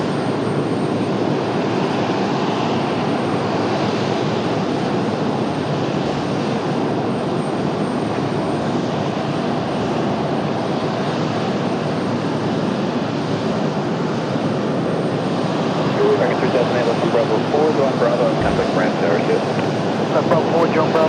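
Delta Airbus A319 airliner at the end of the runway, its engines giving a steady broad roar heard from a distance throughout, with a voice talking over it.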